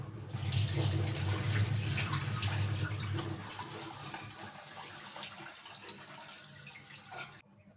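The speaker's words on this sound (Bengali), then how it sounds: "তার আগে আমি চালটা একটু ধুয়ে দিই, ধুয়ে ভিজিয়ে রাখি" Tap water runs steadily into a bowl as rice is rinsed, louder splashing for the first three seconds before settling into a softer, steady trickle that cuts off near the end.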